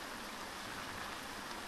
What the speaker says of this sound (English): It's raining now, too.